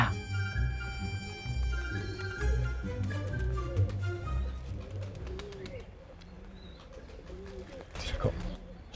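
Pigeons coo softly in low, repeated throaty calls, heard beneath people talking and other background sounds.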